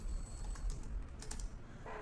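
Fingers tap out a password on a computer keyboard, a quick quiet run of light clicks up close in a still room.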